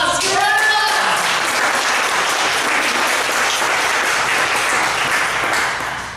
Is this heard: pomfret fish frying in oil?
no